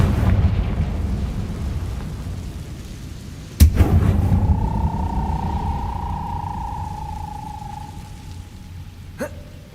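Confringo blasting spell in Hogwarts Legacy, a single sharp explosive burst followed by a lingering whistling tone over steady rumbling ambience, with a second smaller crack near the end.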